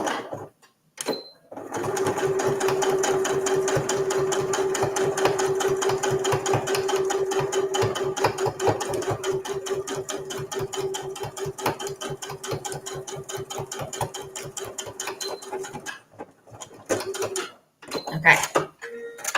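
Sewing machine stitching the sides of a fabric visor tissue holder, a close, steady rhythmic whir running continuously for about fourteen seconds, with brief starts and stops and short handling noises before and after.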